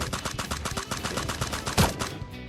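Rapid gunfire from the video game Sausage Man crackles in quick, loud, repeated bursts of shots, with a heavier blast near the end.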